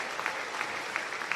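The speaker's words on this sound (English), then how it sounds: "the applause you're hearing is in recognition of our" Steady applause from a homecoming crowd, a dense wash of clapping at an even level throughout the short stretch.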